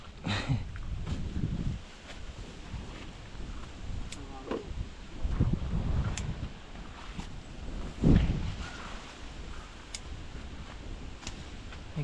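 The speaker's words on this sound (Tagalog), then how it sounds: "Lakas ang hangin." Strong gusts buffet the microphone in an outdoor ginger field during harvest, low rumbling blasts coming and going while people talk.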